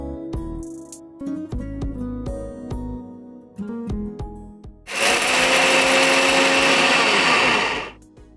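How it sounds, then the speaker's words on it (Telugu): A kitchen mixer grinder whirs loudly and steadily for about three seconds while grinding chili powder, salt and garlic cloves for stuffed ivy gourd. Several sharp clanks and knocks of the jar and lid come first. "మిక్సీ వేసుకుందాం."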